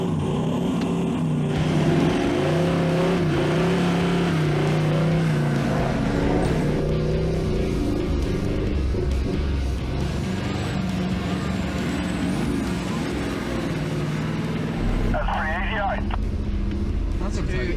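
A truck strains as it is pulled out in the Simpson Desert with a kinetic recovery rope, a loud, steady engine drone under talking voices, with a hiss of air near the end.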